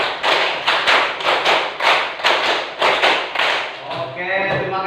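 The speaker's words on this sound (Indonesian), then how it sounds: "Tepuk 5 3 kali." A school class claps a rhythmic pattern in unison, with loud, evenly spaced bursts of clapping repeating about twice a second, close by, and a voice speaks briefly at the end.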